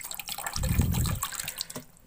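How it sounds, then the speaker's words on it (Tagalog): Water poured from a container into a pacman frog's water dish in a terrarium setup, a short close splashing pour with a bright trickling rush lasting about a second, no talking. "Then, maglalagay tayo ng tubig. Lagyan natin ng tubig."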